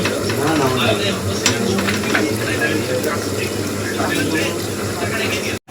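Meat and potatoes cook under a lid in a pan with no water added, giving a dense, constant sizzle and hiss. Someone talks over the sound throughout.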